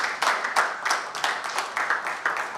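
A conference audience claps for the Executive Vice Chairman at a tech forum, a sparse, moderately close applause with individual hand claps in an irregular rhythm, continuous through the short stretch and without any voices.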